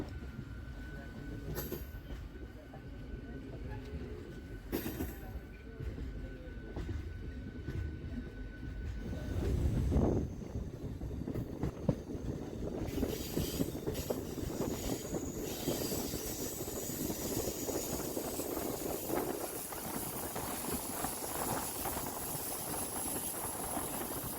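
A local passenger train runs along the single-track Tamluk–Digha section of the Howrah–Digha line, its steady rumble and rattling wheel noise filling the whole ride, with occasional squeals and a louder surge partway through.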